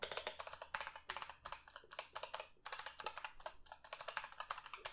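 Rapid clacky typing on a Razer Huntsman Elite mechanical keyboard, close and crisp, with keystrokes coming in quick bursts and brief pauses.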